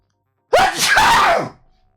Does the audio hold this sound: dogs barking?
no